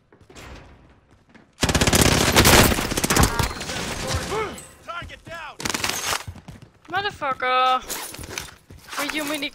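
Minigun fire in Call of Duty Warzone, a loud, dense burst of rapid gunfire that breaks into choppier shots and mixes with other game effects, with players talking over it.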